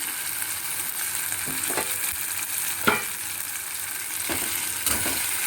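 Tomato and capsicum fry in oil with chopped onion in a pan, a steady close sizzle with a few sharp spatula scrapes and clinks punctuating it, no voices.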